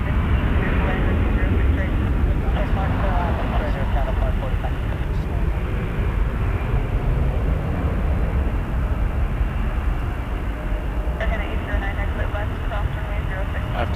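An Embraer jet at Toronto Pearson Airport produces a continuous broad engine roar at moderate distance, with a person talking over the steady noise.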